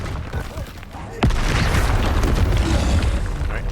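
Confringo blasting spell from Hogwarts Legacy erupting as a sudden loud boom after a quieter stretch of game ambience, then a dense, roaring crackle that holds steady to the end.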